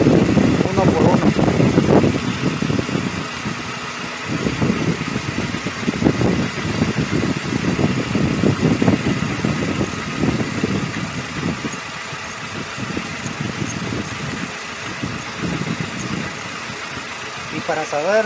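Car engine idling steadily while the battery cables are disconnected one by one in an alternator check, a constant mid-pitched rumble under continuous talk.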